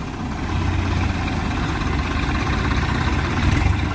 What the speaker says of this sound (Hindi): अब भाई पिछवाड़े को चलेंगे दोनों ट्रैक्टर।